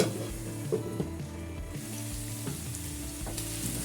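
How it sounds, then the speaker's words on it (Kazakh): Pasta shells fry in a pan with a steady, fairly loud sizzle, joined by scraping stir strokes and occasional pops throughout. "Енді бетін жауып, 1 немесе 2 минут жақсылап тағы да қуырып аламыз."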